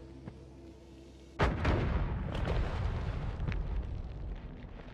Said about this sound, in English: Okay, we gotta put the bomb through.